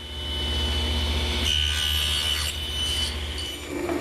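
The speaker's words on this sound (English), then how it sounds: "Using a special jig which holds pieces of wood vertically so that I can run them through the saw, I can complete the cheek cuts on each tenon." Saw cutting tenon cheeks on mesquite wood held upright in a vertical jig, a loud constant motor drone with a rising grinding rasp as the blade passes through, close and uninterrupted.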